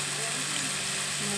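Spices and salt being stirred into a fish curry frying in a pan, a steady, close sizzle with no breaks across the short stretch.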